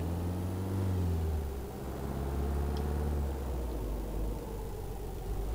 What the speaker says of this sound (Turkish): Hem kaymon sesi geliyor hem araba sesi geliyor